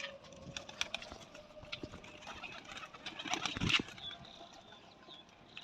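Soft cooing and rustling from old flying pigeons nearby, with faint wing shuffles and a brief louder flutter midway, over quiet outdoor background.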